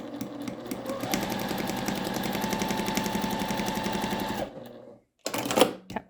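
A sewing machine stitching a straight seam through fabric to join pieces for half-square triangles, running steadily with a fast rhythmic clatter for several seconds, then stopping briefly before a short final burst of stitches.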